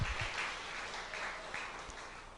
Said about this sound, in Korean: 우리 박수 한번 쳐드리고